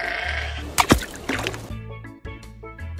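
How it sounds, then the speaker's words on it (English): A sheep bleats in a short wavering call, close and fairly loud, followed by a brief splashy burst and a low hum underneath. "Sheep."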